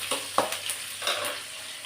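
Curry leaves spitting and crackling in hot oil in a pan, a close, steady sizzle broken by a few sharp pops and a stir, with no talking.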